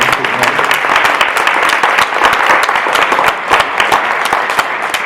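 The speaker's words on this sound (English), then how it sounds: "if we could just quick round of applause for the candidates" Sustained, dense audience applause fills a candidates forum for District 97, steady and close throughout with no break in the clapping.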